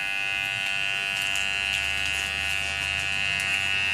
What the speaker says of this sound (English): turn the clipper on, place it inside the sachet, move it around the crystals for 60 to 90 seconds